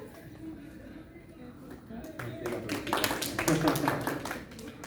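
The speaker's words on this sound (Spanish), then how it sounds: "Vamos, aplausos." Audience applause at an award recognition during a panel discussion, starting faint and swelling after a couple of seconds into a steady patter of many hands, moderately distant, with background voices underneath.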